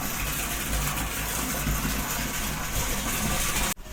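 A rooftop water tank fills from an inflowing supply after cleaning, a steady, loud, continuous gushing rush of water close by that cuts off abruptly near the end.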